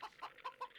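Chickens in the strategy game Age of Empires II give five quick, soft clucks in a steady rhythm, small and close in the game mix.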